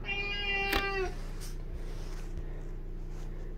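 A single clear, drawn-out cat meow up close, followed by quiet room noise.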